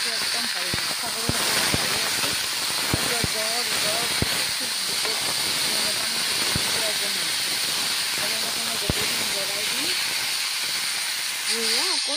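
Onions and chillies sizzling in a hot pan, a steady loud frying hiss with occasional sharp crackles and pops, while someone talks over it.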